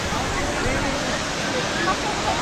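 Tumalog Falls in Oslob, Cebu, a steady broad roar of falling water filling the whole moment, with people talking nearby over the rush.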